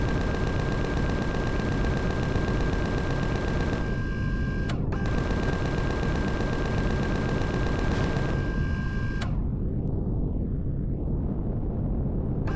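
Rapid automatic gunfire in the sci-fi survival game Empyrion: Galactic Survival, loud and continuous bursts with a steady tone running underneath, cutting off briefly twice before a final stop.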